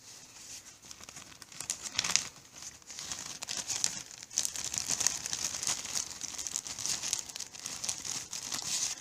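Sheets of paper being folded and pushed into a small plastic baggie, giving close, continuous crinkling and rustling that grows busier midway, with no talk.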